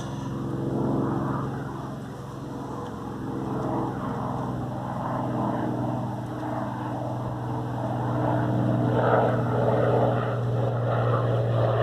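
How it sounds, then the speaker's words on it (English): A Spitfire flying over from Duxford, its propeller engine droning steadily at moderate distance through the whole stretch and swelling slightly toward the end, with faint outdoor background around it. "Spitfire flying over from Duxford."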